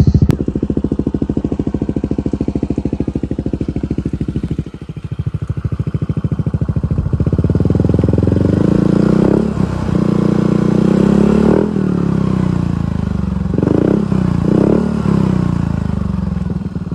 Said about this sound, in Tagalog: na-sound check na natin yung Aerox version 1 na natin na naka TRC pipe